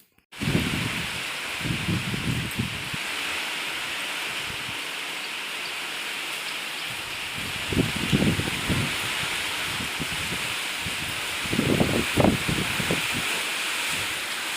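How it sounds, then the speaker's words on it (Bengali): Heavy rain and gusty wind the day after Cyclone Remal make a steady hiss, with louder bursts of rushing wind that rise and fall. "এখনও কিন্তু সমানে ঝড় বৃষ্টি হয়েই চলেছে"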